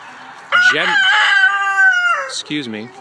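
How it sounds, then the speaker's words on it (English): A rooster crows loudly and close by in one long drawn-out call, with chickens clucking around it before and after. "So these chickens are absolutely amazing"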